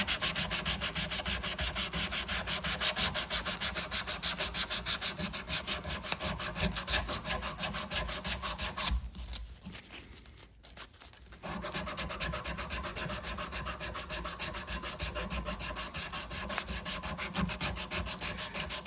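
Wood on a handmade knife being sanded by hand, a steady rhythmic back-and-forth rasping of abrasive paper, loud and close, pausing briefly midway before resuming at the same pace.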